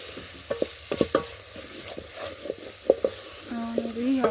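Garlic frying in a pan while being stirred, with scattered scraping clicks of the utensil over a low sizzle; a voice-like tonal sound enters near the end.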